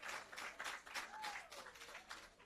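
An outdoor crowd at a social housing handover ceremony gives a round of applause for the Prime Minister, steady and fairly faint clapping with a short tonal whistle-like sweep in the middle.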